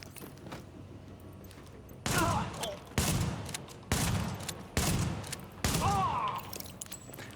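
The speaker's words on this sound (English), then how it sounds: "shotguns aren't too great in this game, but I'm just running them here" Shotgun blasts in a video game, five heavy booming shots at roughly one-second intervals, each with a decaying tail, loud and close over a low background hum.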